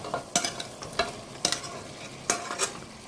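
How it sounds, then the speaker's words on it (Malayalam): Fried duck pieces are stirred into a thickened Kuttanad-style duck curry in a pan, several sharp spoon scrapes and knocks at uneven intervals over a soft, quiet simmering sizzle. "അതിലേക്ക് നമ്മൾ വറുത്ത് വെച്ച താറാവ് ചേർക്കുകയാണേ."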